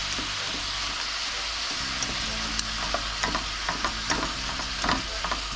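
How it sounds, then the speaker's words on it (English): Seasoned tofu breaking up and frying in a hot pan, a steady dense sizzle with scattered scraping stirs and taps from a utensil, close and without any voice. "I'm just going to break it down to make it into scrambled tofu"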